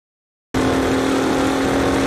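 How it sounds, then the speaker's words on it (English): A Pessio Garage RD1 Porknose classic F1 car in the Assetto Corsa racing game: after brief silence the engine cuts in abruptly with a loud, steady roar and a strong sustained drone that holds to the end. "But not only does the motor roar ever so sweetly, the brakes also squeak as they should."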